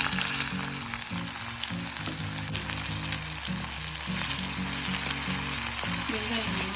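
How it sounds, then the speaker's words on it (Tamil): Onions and mustard seeds frying in a pan for a prawn sukka dish, a steady close sizzle with a strong crackle throughout and bursts of stirring layered on top. "வெங்காயம் நல்லா வதங்கணும்."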